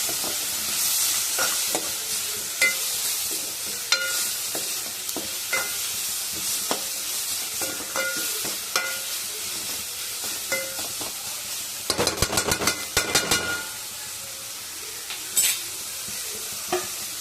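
Ingredients for egg dum biryani fry in a pan with salt, a soft continuous sizzle under intermittent scraping and stirring strokes, with a brief burst of rapid clattering partway through, near and moderately quiet.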